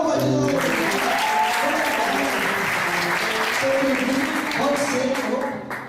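Steady, full applause from a church seminar audience welcoming a newcomer, continuous clapping mixed with overlapping voices and tonal singing, easing off in the last second.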